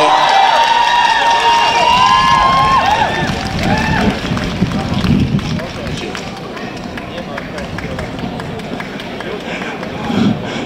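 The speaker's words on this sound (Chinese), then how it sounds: "用最热烈的掌声来欢迎" A large crowd at an evening rally in Taiwan marking the tenth anniversary of the Sunflower Movement claps and cheers in sustained applause for an arriving speaker, with a voice on a loudspeaker over it at first.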